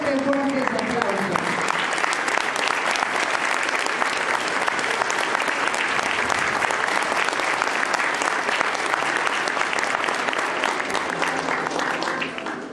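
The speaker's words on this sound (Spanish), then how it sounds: "Fuerte, fuerte aplauso." Loud, sustained applause from a large audience at a school flag pledge ceremony, a continuous thick roar of clapping that holds steady and fades slightly at the end, with some voices briefly audible at the start.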